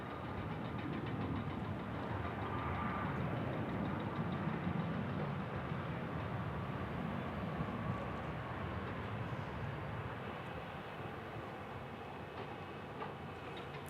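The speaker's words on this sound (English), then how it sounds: "This 737 MAX 8 inbound, arriving from LaGuardia" A Boeing 737 MAX 8 airliner arriving from New York LaGuardia at Kansas City International Airport gives a steady, moderately distant engine roar with a faint whine, holding fairly even for the whole stretch with no talk.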